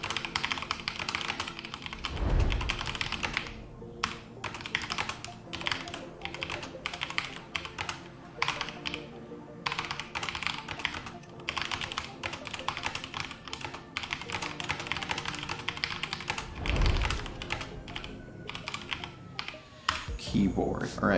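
Busy computer-keyboard typing, a long run of rapid, uneven key clicks close to the mic, with a couple of heavier thumps along the way.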